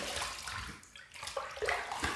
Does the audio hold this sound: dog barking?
no